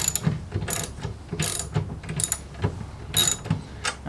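A ratchet wrench tightens 13 mm bolts on a Kolpin snow plow bracket, with quick repeated clicking strokes in short bursts, close and fairly quiet.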